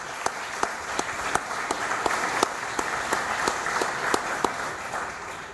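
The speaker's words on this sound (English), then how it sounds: "Let's give these folks a round of applause." A crowd at a public safety and municipal building topping-out ceremony applauds outdoors, a sustained wash of clapping with distinct sharp claps punctuating it at a fairly regular rhythm.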